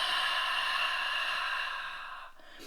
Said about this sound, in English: Nice full exhale out.